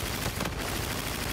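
Call of Duty gunfire plays as a dense, rapid burst of shots that fills the whole short moment, loud and close.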